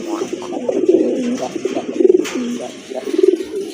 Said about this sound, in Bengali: মাশাআল্লাহ খুবই চমৎকার এক জোড়া কোয়ালিটি ফুল কবুতর